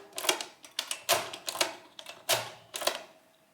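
Keys on a wooden Comptometer mechanical calculator are pressed in a run of about eight sharp mechanical clacks at an uneven pace, close and fairly quiet, with no talking.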